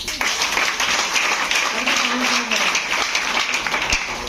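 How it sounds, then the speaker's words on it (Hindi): Applause from an audience at a DXN distributor meeting in Patna, steady clapping of many hands that holds at an even level for several seconds. "जोरदार ताली"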